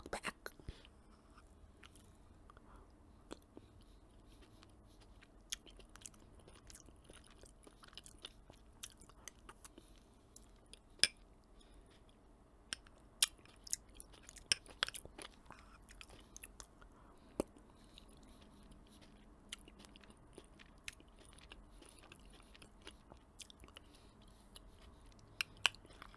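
Someone chews a salty, tangy snack alongside apple sauce, with soft close crunches and wet bites scattered irregularly over a very quiet background.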